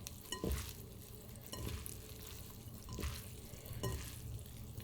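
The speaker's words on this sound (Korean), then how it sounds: "참기름 제일 먼저 넣으세요. 그래서 한번 살짝 버무려 주세요." Seasoned spinach being tossed with sesame oil by hand, giving soft wet squelching and stirring sounds with a few louder slaps, quiet and close.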